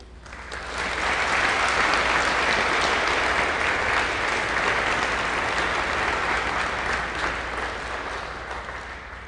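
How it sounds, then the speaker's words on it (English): Sustained, loud applause fills a school NJROTC change of command ceremony, swelling quickly and holding as a dense wash of many hands before easing slightly toward the end. "Ladies and gentlemen, please give a round of applause for our staff for the"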